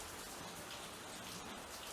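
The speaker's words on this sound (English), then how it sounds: "it's raining cats and dogs" Heavy rain falls outside a renovated house, an even, dense hiss of drops that holds steady and faint throughout, with no voices.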